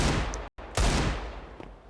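A Desert Eagle shot in Counter-Strike during an esports match: a sharp, loud report, a short silent gap, then a second booming shot with a decaying tail and faint further gunfire.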